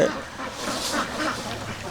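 Ducks on a duck farm raise a dense, continuous chorus of quacking and calls, steady and moderately loud throughout.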